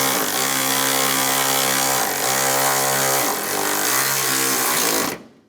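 A power tool drives the front bumper bolts home on a 2015-2019 Lincoln MKC, its steady whirring drone holding loud and close for about five seconds with small pitch dips before cutting off abruptly.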